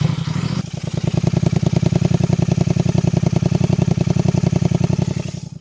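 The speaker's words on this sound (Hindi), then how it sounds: "अभी इसकी आवाज़ में अगर आपको सुनाऊँ तो आइडल पे सुना देता हू" A Royal Enfield GT 650 motorcycle idles with a dB killer fitted in its exhaust, giving a steady, loud, evenly pulsing thump close by that holds throughout and fades slightly at the end.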